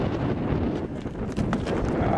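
Steady wind buffets the microphone on a mountain peak with a constant low rumble and gusty roar throughout, loud and close, with no clear voices.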